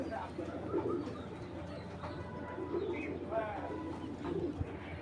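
Old-breed pigeons cooing in a loft, soft repeated throaty coos and a few chirps close by, with someone talking over them.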